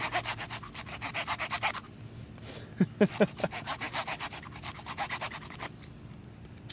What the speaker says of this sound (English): Sweet sawing action!